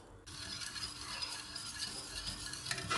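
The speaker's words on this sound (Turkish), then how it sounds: "Bir yandan da karıştırıyorum. Ve iyice karıştırmış olduğum muhallebimi ocağa alıyorum." Milk pudding made with three glasses of milk is stirred steadily in a pot on the stove, a faint continuous scraping swish under low background noise.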